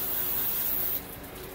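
Brake cleaner sprays from an aerosol can in a steady, loud hiss that stops abruptly about a second in and leaves a quieter hiss behind.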